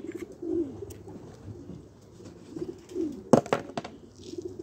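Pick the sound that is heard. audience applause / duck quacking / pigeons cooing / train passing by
pigeons cooing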